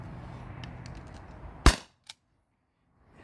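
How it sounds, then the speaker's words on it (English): A single sharp crack from a T4E HDP50 CO2 pistol, loud and close, following a stretch of faint background hiss, then a smaller click as the room goes quiet. "Red HDP50, same CO2 cartridge, shot 7 through 12."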